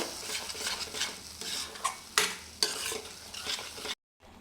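Ground masala for paneer gravy frying in a pan as a spoon stirs it in repeated scraping strokes with a soft sizzle underneath, close and without voices, ending in a brief silence.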